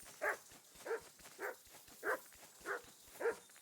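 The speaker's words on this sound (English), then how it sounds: "Someone shut that dog up." Dog in a video game barking repeatedly, six evenly spaced sharp barks at a moderate distance over a quiet background, with no talking.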